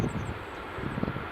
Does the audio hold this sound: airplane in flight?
yes